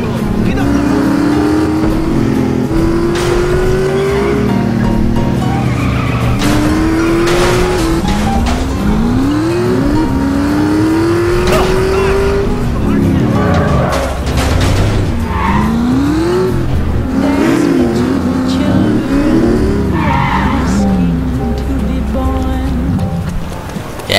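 A car in The Saboteur video game drives hard with a steady engine roar while its tires repeatedly squeal and skid through turns, loud and continuous for the whole stretch.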